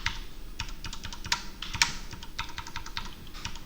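Computer keyboard keys are pressed for Ctrl shortcuts in a rapid, irregular run of light clicks and taps, a couple of them sharper, close and steady over a faint background hum.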